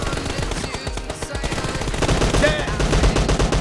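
Rapid bursts of automatic gunfire in the PUBG Mobile TDM mode crackle loudly and nearly continuously, with a brief lull before heavier firing resumes.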